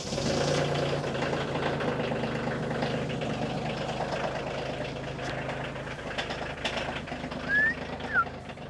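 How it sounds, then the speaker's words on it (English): A tractor engine idles steadily outdoors at a woodyard, a low continuous rumble with a faint knocking texture, fairly near and unbroken, with a couple of brief higher squeaks near the end. "I'm going to get the tractor out, put the bucket on and go up and just clear off the driveway"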